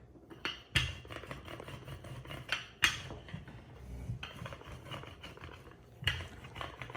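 Tart dough being rolled out on a floured surface, with scattered soft rubs and several sharper knocks and clatters of the rolling pin against the counter, close by and with no talking.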